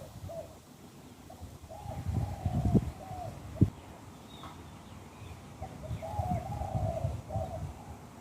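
Soft dove cooing in short repeated phrases, fairly faint against a low rumbling background with a few brief knocks.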